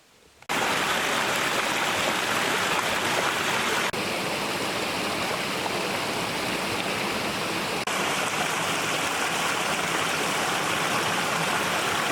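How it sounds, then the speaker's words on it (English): Running water of a mountain stream beside a hiking trail in the Adirondack High Peaks, a steady, close, full rushing wash that starts abruptly and continues without pause, with no talking. "Here running water."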